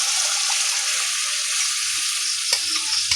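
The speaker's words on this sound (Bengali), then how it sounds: "এখন এর মধ্যে দিয়ে দেবো সেদ্ধ করে রাখা মুসুর ডালটা" Boiled red lentils go into a pan of softened tomatoes, a loud continuous sizzle with a watery hiss and a sharp stir or clatter late on.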